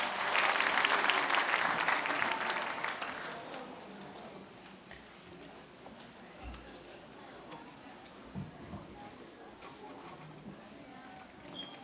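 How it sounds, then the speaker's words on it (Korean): Congregation at a Sunday church service applauds, a dense burst of clapping for about three seconds that fades into a quiet room with scattered small sounds. "우리 다시 한번 큰 박수 부탁드리겠습니다"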